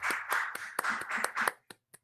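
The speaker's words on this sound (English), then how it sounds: "I heard another person applauding." Applause for a song performance in an online song and poetry swap: a short run of roughly eight distinct hand claps from a single person, close and crisp, tapering off into a couple of faint final claps.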